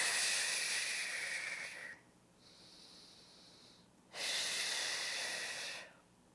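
Deep breathing during a pelvic floor exercise for prolapse: two long, airy breaths, each about two seconds, separated by a quieter pause with a faint steady hiss, close and clear with no talking.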